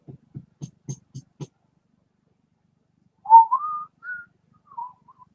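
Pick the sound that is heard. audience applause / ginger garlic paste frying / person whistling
person whistling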